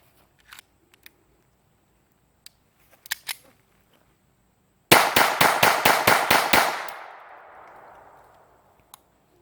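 Phoenix Arms HP 25 pistol fired rapidly, about nine sharp close shots in a quick even burst with a decaying echo, preceded by a few faint handling clicks.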